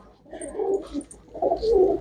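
Pigeons cooing at a loft with birds for sale, two bursts of low rolling coos close by with a short lull between them.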